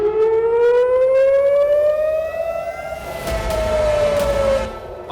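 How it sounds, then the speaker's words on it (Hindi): Civil defense air raid sirens wail across Israel during an Iranian missile attack, with one loud rising and falling tone that holds steady and then slowly dips, sounding alone with no voices. "और इजराइल में सायरन गूंजते रहे।"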